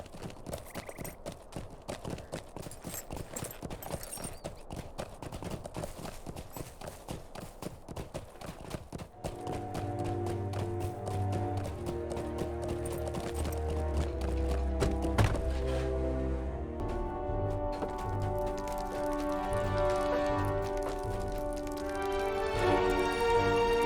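Steady rhythmic hoofbeats of a galloping horse in the video game The Lord of the Rings Online patter throughout, joined midway by swelling orchestral music that grows louder.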